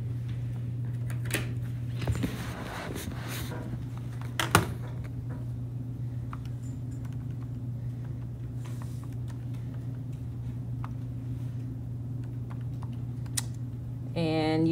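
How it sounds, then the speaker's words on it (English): Fingers tap numbers into a calculator keypad in a quick run of small clicks, then a few isolated presses over a steady low electrical hum. "Go ahead, type that in your calculator."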